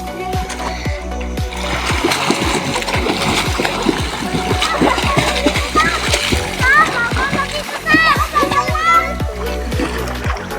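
Children swim and splash in a river, with repeated bursts of water slapping and churning close by, excited kids' voices and shrieks mixed throughout.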